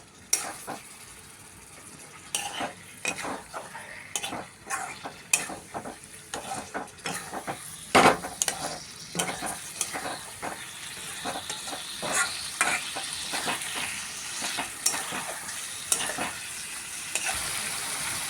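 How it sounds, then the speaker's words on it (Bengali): Chicken pieces are stirred and fried with spices in a pan, giving a continuous sizzle broken by repeated scraping and clacking strokes of a spoon against the metal at an irregular rhythm, with no talking. "হালকা হালকা নাড়া দিচ্ছি কষাতে কষাতে, এই মাংসটা ভালো করে কষানো হবে"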